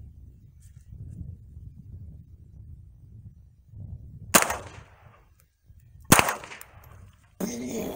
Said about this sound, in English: so let's go shoot it.